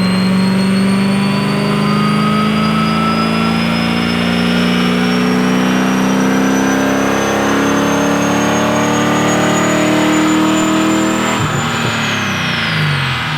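The supercharged 1,000 hp V8 of a 1969 Chevrolet Chevelle runs loud and close, holding a steady rumble with a whine above it before a shift in pitch near the end.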